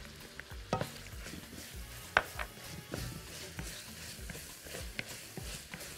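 Onion and meat are stirred in a pan of rendered fat with a soft, steady sizzle underneath, while a utensil scrapes and clinks against the pan at irregular intervals.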